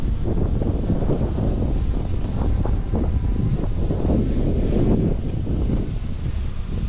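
Strong wind roars and buffets continuously, gusting in heavy blasts throughout with no voices.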